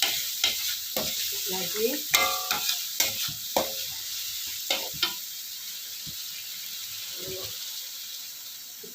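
Bacem stew in a pan is stirred over sizzling heat, with a series of close, distinct scraping strokes in an irregular rhythm over a constant frying hiss; a few brief words are spoken.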